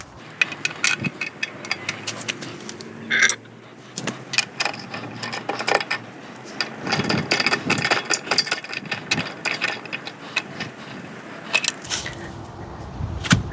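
A wheel bolt is threaded onto a car hub fitted with hub rings, giving scattered close metallic clicks, ticks and small ratcheting taps at an irregular rhythm over faint background hum.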